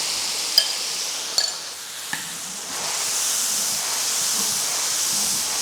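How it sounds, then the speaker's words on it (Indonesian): Ground spice paste hits hot oil in a large batch for ayam bakar kalasan, giving a few sharp spatters and then a loud, steady sizzling hiss close by. "Ini bumbu-bumbu yang tadi udah kita halusin. Langsung aja kita tuang ini."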